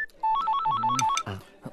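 A phone rings with an incoming WhatsApp call: a quick, bright melodic tune of stepping electronic tones, loud and close, lasting about a second before cutting off, followed by a brief low murmur.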